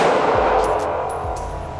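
Two sharp, loud Glock 17 pistol shots ring out about half a second apart at an outdoor range, each a crisp crack followed by a brief ringing tail.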